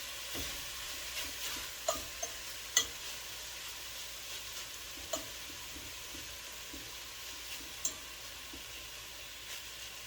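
Ground meat for chili frying in a pot over medium heat, a faint steady sizzle with occasional scrapes and taps of a spoon stirring, close and low in level.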